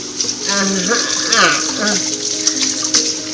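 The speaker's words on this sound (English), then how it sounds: "I'm going to wash my hands off real fast." Hands rinsed under a running kitchen tap after flouring pork chops, a steady broadband rush of water with shifting splashes, with a person's voice and humming pitches heard under the flow.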